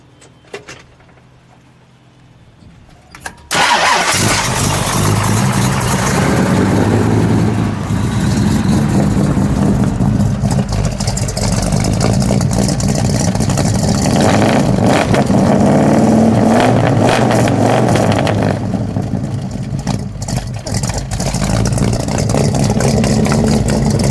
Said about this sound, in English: this car has the original factory glass pack exhaust mufflers on it